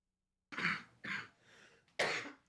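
A teenager coughs three times, close and harsh, with short gaps of silence between the coughs.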